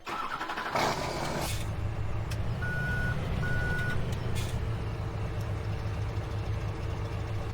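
A tractor in Farming Simulator 17 backs up with a rhythmic electronic reversing beep over a steady diesel engine drone, loud and close, with a brief engine surge near the start and no talking.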